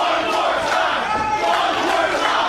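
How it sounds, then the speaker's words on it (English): A packed arena crowd at a pro wrestling show roars continuously, with loud cheering and shouting sustained at high volume, no clear breaks. "This crowd might be more sick than the Rip City."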